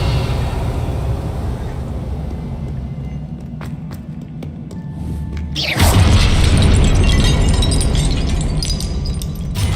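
A heavy explosive blast from the Confringo spell in Hogwarts Legacy erupts partway through, after a run of faint clicks and a low rumble, then a loud roaring burst that lingers.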